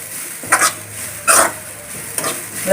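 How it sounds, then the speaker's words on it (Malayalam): Grated coconut is dry roasted without oil for a chicken curry, stirred in a pan with a few loud scraping strokes spaced unevenly over a low background hum. "മീഡിയം ഫ്ലെയിമിലേക്ക് ഇട്ടിട്ട് നന്നായി ഇതൊന്ന് വറുക്കാം വെളിച്ചെണ്ണ ഒഴിക്കാണ്ട് വറുക്കാം"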